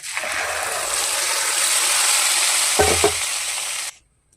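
Ground tomato paste added to hot oil with mustard seeds and curry leaves, a loud continuous sizzle and hiss with a brief stirring clatter before it cuts off abruptly.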